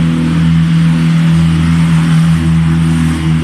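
Loud car engine without a muffler revs and roars steadily, close and dominant, with a deep rumbling drone held for a few seconds and no talk over it.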